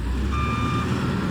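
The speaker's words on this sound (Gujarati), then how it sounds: "અહીંયા જોઈ શકો લોડર લોડિંગ કરે છે." A loader at a plant gives off a steady electronic reversing beep over a constant engine drone, close and continuous.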